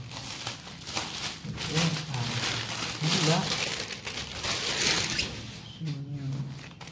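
Plastic and paper packaging of a Zomato biryani delivery being opened, with crinkling and rustling throughout while a person talks over it.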